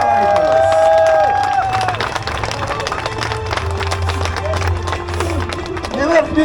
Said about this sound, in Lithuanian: Plojimai dar sykį, Mindaugas Valaitis, Stasys Brundza ir Paulius Mikelaitis.